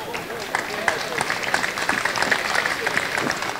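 Audience applause at the Hercegovačko sijelo 2023 folk gathering, a dense run of many hands clapping continuously, fairly close and steady throughout.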